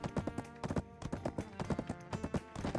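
Hooves clip-clop in a quick steady rhythm from a horse in a video game, with a brief whinny mixed in over a musical tonal backdrop; close and fairly loud, no talking.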